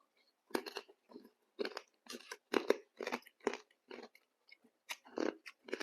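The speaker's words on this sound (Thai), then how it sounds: "มากินก๋วยเตี๋ยวต้มยำแซ่บๆกันพี่น้อง" Close-up slurping and crunchy chewing of a big plate of spicy tom yum noodles, short bursts of eating sounds separated by brief pauses, no talking.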